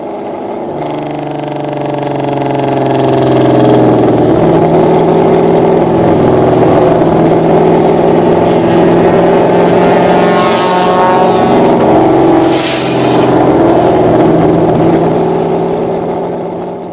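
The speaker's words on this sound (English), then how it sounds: "the engine starts running really rough" A car engine runs rough during a track day with an idler pulley problem, a loud, steady droning hum that rises and then falls back over several seconds, with no voices.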